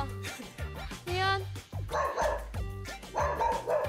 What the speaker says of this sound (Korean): 강아지가 화났는데요?